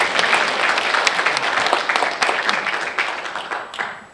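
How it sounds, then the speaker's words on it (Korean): An audience at a general assembly meeting claps to welcome a speaker to the stage, a loud, close burst of many hands with sharp individual claps standing out, easing off slightly toward the end. "여러분 박수로 맞이해 주시기 바라겠습니다."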